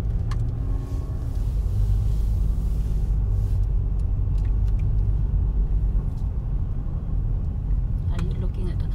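Steady low road rumble inside a moving car, continuous and close, with occasional faint talk over the engine and tire noise.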